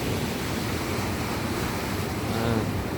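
Sea waves wash steadily behind a church built out over the sea, with a continuous, loud roar of surf and wind and no speech.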